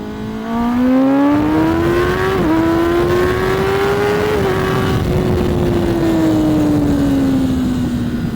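A Kawasaki Ninja ZX10R motorcycle accelerates hard in first gear, its loud, close engine note climbing steadily in pitch with a brief dip at a shift point, then pulling on under a roar of wind.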